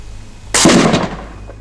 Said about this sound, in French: faire un pétard très puissant avec une bouteille